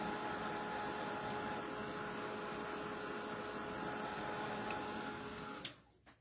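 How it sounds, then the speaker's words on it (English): Heat gun blowing air across wet watercolor paint, a steady broadband whoosh with a faint motor hum, continuous and fairly close for most of the clip before it cuts off near the end. "this one doesn't push around the air, the paint as much, but you can do that with your heat gun"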